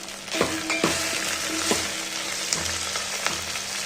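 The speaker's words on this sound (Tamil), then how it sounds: "வெங்காயம் நல்லா வதங்கட்டும்." Chopped onions and tomato fry in a pan for sambar, giving a steady close sizzle with soft spoon scrapes and stirring knocks recurring throughout.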